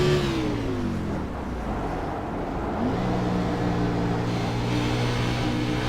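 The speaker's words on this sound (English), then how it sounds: "Hear how he has to get off that throttle, and he's working those tires." Stock car engine at Dover International Raceway, droning loudly and steadily, then dipping in pitch as the throttle eases before climbing again through the turns, with no talking.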